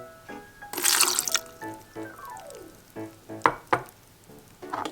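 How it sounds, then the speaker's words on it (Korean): Fresh lemon squeezed by hand into a cashew and almond sauce for a corn salad, with wet squelching, dripping and trickling bursts spread across the clip, alternately louder and softer, close up. "레몬은 꼭 짜서 3큰술"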